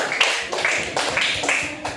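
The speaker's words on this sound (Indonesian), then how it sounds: "Oke, tepuk tangan untuk kelompok 3." A small group in a classroom claps for a group of students, quick bright claps coming in a few rhythmic bursts that sound fairly close and not loud.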